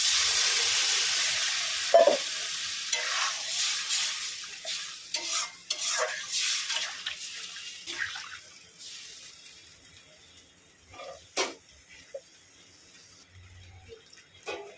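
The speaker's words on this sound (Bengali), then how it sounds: "মশলাটা কষানো হয়ে গেছে, জল দিয়ে দিলাম।" Water hits sautéed spice paste in a hot pan, bursting into a loud hissing sizzle that fades over several seconds, while scraping stir strokes and knocks continue and the bubbling settles to quiet.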